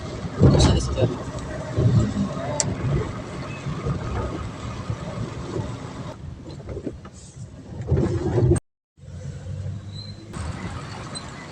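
A car drives along a road past banana plantations in light rain, a continuous low road and engine rumble under someone talking, with a brief silent gap near the end.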